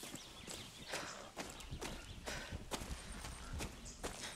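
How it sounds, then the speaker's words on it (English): A horse clip-clops along in Far Cry 6, steady hoofbeats on a hard surface at a walking rhythm, fairly close but quiet. "Oh, there's a horse here. There's a horse"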